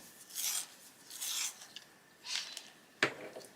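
Cobalt turquoise colored pencil being sharpened, a few short scraping, rasping bursts with brief pauses between them, quiet and close.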